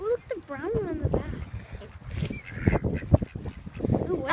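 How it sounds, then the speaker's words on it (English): Ducks and geese honk and call at close range in a park, several rapid bursts of fowl calls mixed with people talking over them throughout. "Look at all these ducks."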